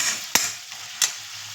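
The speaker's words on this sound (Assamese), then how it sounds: "মই চাহৰ লগত খাবৰ কাৰণে এতিয়া ভাজিলোঁ বুটখিনি।" Chickpeas frying in a pan for a tea-time snack give a soft, steady sizzle, broken by two sharp clinks of stirring spaced well apart, close and fairly quiet.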